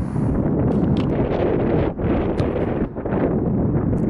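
Strong wind buffets the microphone continuously outdoors at a football practice field, a loud, rumbling roar with brief dips in gusting and no speech.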